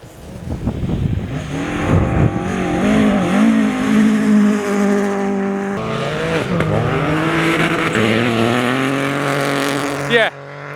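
A rally car races past on a gravel motorsport stage, its engine revving hard and rising and falling in pitch through gear changes as it approaches and passes close by.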